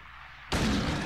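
A single gunshot fired in the video game Silent Hill 2, an abrupt loud blast breaking a quiet dark background and ringing out briefly.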